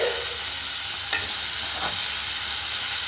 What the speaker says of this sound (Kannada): ಸ್ವಲ್ಪ ಟೊಮೊಟೊನ ಕೂಡ ಫ್ರೈ ಮಾಡ್ಕೊಳ್ಳೋಣ